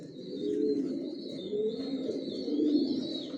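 Pigeons coo steadily in a new bedding loft set up on a fifth-floor rooftop, their low throaty calls rolling in overlapping waves, close and continuous, with a faint higher background tone.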